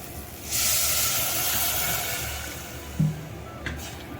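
A loud hissing sizzle bursts up and holds steady as water is poured into a hot pan, with a brief thump and faint clatter near the end.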